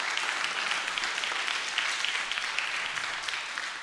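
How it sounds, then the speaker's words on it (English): A church congregation at a traditional service applauds, a dense continuous patter of many clapping hands holding steady at fairly loud volume from start to finish. "a round of applause for them"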